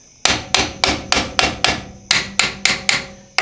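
A 2001 Ford F-150 brake caliper struck with a hammer during a brake job, eleven sharp metallic knocks at a steady quick rhythm, loud and close with no talking.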